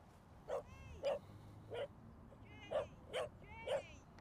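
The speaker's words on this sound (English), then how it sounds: "It's a dog barking" A dog barks six times in short, sharp yips spaced about half a second apart, fairly close and loud, with no one talking over it.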